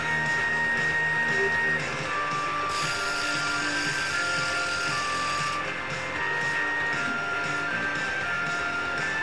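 A Neo T2 turbo trainer runs under a rider, giving a steady mechanical whine with sustained tonal hum that holds continuously throughout, close and even in level.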